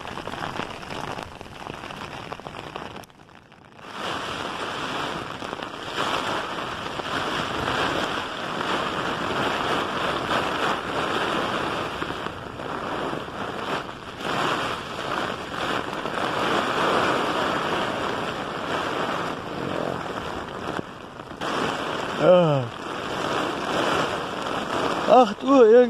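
Heavy storm rain and gusts pound steadily on a tent pitched in a field, a dense drumming hiss that swells and dips, with a brief lull early on.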